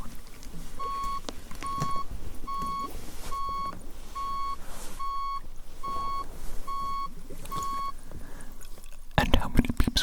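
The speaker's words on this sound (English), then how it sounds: "How many beeps was that" Short electronic beeps from a hearing test sound in an even series of about nine, spaced under a second apart and steady in pitch, over quiet background murmur, ending with a burst of rustling.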